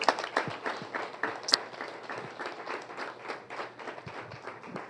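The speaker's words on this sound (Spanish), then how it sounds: "Dele un aplauso fuerte al Señor." Faint, loosely rhythmic clapping from a church congregation, with scattered individual claps and a thin spread of applause lasting throughout.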